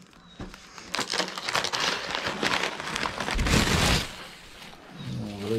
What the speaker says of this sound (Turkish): Yağmur yağdı kaçtık.